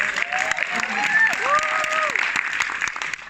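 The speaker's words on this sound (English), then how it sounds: "Give a round of applause." Audience at a film Q&A applauds steadily, dense close clapping with a few cheers and voices rising over it for a few seconds.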